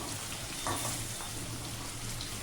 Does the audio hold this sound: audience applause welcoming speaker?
no